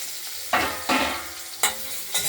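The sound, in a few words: lightly frying cut potatoes with cumin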